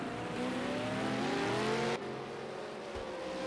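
A V8 Supercar racing car on the Long Beach street circuit drones loudly close by with a rising engine note, then cuts abruptly to a lower, quieter whir as it slows.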